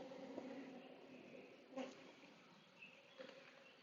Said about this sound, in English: Certainly is absolutely loads of bees in this colony.